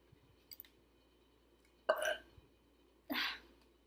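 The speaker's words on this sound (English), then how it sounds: "These burps are disappointing today." Two short, soft burps in quiet surroundings, a small click heard just before them.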